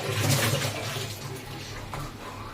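A curry with potatoes and eggs boiling in a pot, heard as a dense, steady bubbling rumble close by, slightly louder at the start and then settling into an even boil.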